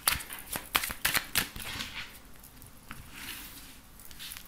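Tarot cards being shuffled before a reading: a quick burst of crisp riffling snaps in the first second and a half, then softer, scattered card flicks and slides, close and fairly quiet.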